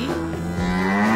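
A cartoon calf moos in one long, low, steady call that swells slightly as it goes, loud and close with nothing else around it.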